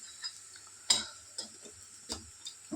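A spoon stirring okra fry in a pan: a few sharp metallic scrapes and taps, close and spaced about a second apart, with a faint sizzle underneath.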